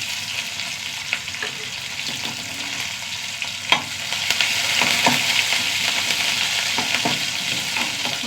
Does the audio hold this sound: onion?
yes